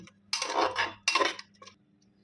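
Prawn malai curry is transferred from the cooking pan into a serving dish in two short bursts of metal-on-metal clatter and scraping, with a faint tap at the end, close by and without talking.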